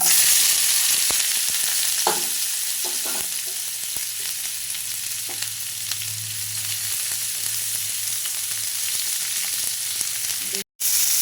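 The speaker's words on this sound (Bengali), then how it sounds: "এরপর এখানে দিয়ে দেবো আমি এই যে কেটে রাখা কাঁকরোল" Spiny gourd pieces fry in hot oil seasoned with black cumin and a dried red chilli, a constant loud sizzle with scattered spatters and a few light stirring knocks, with no talking.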